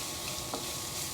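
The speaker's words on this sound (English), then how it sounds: "then we're gonna toss in our onions" Onions sizzle in fat in a pan during cooking, a soft continuous frying hiss, close and steady, with a faint stirring scrape midway.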